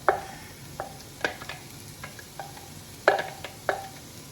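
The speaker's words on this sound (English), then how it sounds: "we're going to saute the onions till they get soft" Onions sauté in a pan, stirred now and then with a utensil that makes sharp scraping clicks over a faint, low sizzle; quiet and close, with no talking.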